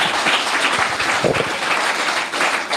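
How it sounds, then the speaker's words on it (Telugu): A church congregation applauding during a sermon: dense, steady clapping from many hands with no pauses, fairly loud and close, and no speech over it. "చప్పట్లు"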